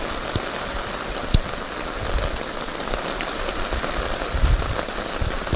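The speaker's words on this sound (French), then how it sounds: "je crois qu'on essuie une petite pluie de Bretagne" Light rain falls in Brittany during a pike and carp fishing outing, a steady soft patter on surfaces with occasional louder drops, continuous and even throughout with no talking.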